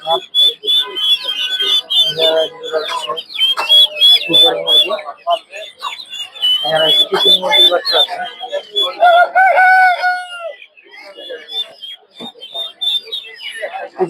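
Chickens, chicks, ducks and pigeons at a busy poultry market in Tongi bazaar cluck, chirp and peep shrilly and constantly, the calls overlapping near and loud throughout.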